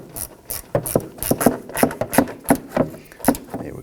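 A ratchet tightens a screw into the upper part of a front wheel liner on a 2018-2024 Toyota Camry, giving a close, regular series of clicking strokes at an even pace with no talk.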